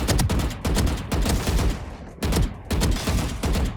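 Rapid bursts of gunfire in the Valorant shooting range, several sustained automatic volleys separated by brief pauses, loud and close with no talking.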